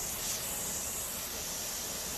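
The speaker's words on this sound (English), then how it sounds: "we get that steady stream of steam coming out of there" Steam hisses in a steady, even stream from the vent of a pressure canner, a broad continuous rush heard close and alone for the whole moment.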